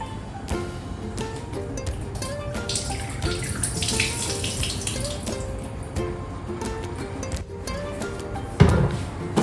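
Water runs steadily into a cooking pan holding frozen sweet corn while white sauce macaroni pasta is prepared. The close splashing flow lasts throughout, with a brief clunk near the end and no talking.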